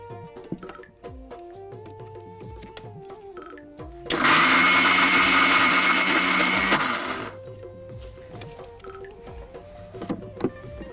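A kitchen mixer grinder whirs loudly for about three seconds, grinding soaked white chickpeas into paste, then cuts off; quieter background music plays before and after the burst.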